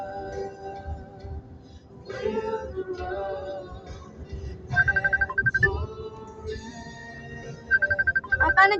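A mobile phone ringtone plays close and loud, a bright electronic melody that repeats its phrases continuously for several seconds.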